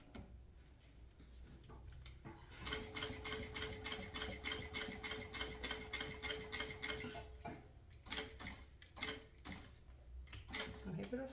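A sewing machine runs in rapid bursts of stitching along the flap of a synthetic leather waist pouch, loud and close, stopping and restarting as it is guided point by point, with brief pauses between runs.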